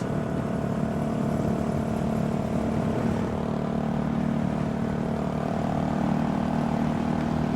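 A Honda Grom motorcycle climbs a winding canyon road, its small engine giving a steady, continuous drone mixed with wind rush at even loudness throughout, with no talking.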